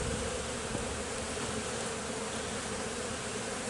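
Dense, steady buzzing of many honey bees around an open hive fills the air continuously, a close swarm droning without pause and with no voices.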